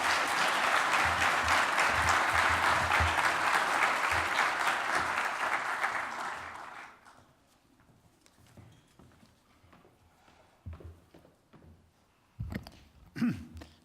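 An audience gives a warm round of applause to welcome Roger Hertog at an opening-remarks event, with dense, steady clapping for about seven seconds before it thins out into scattered claps and a few footsteps and bumps.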